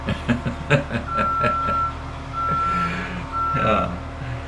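A rollback tow truck sounds three repeated high reversing beeps over its rumbling engine, with someone talking intermittently nearby.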